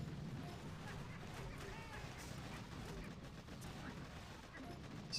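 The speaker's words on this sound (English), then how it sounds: "See what these artilleries are going to do." Artillery barrages fire in the mobile strategy game Boom Beach, a dense rumbling volley of blasts and crackling explosions continuing throughout, fairly quiet in the mix.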